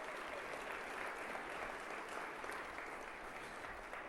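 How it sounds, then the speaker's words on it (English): Steady, faint applause from an audience thanking panelists at a nonprofit funding event, an even wash of clapping with no voices. "Let's give them a round of applause."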